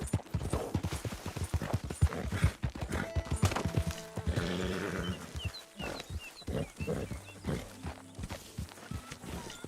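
Horse hooves clip-clopping in Red Dead Redemption 2, a steady rhythmic patter of steps running through busy game sound, with voices talking and birds chirping over it.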